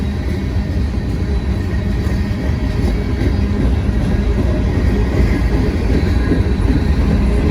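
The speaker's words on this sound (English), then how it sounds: "This is gonna be a long train, and they're going down the hill right now." A long freight train rolls downhill past the listener with a loud, steady rumble and rattle of rail cars, continuous and unbroken throughout.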